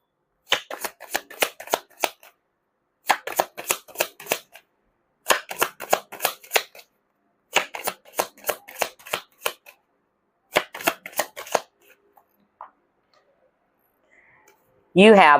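Rapid riffle-and-bridge shuffling of tarot cards repeats in five quick bursts with short pauses between, crisp and close, then goes quiet.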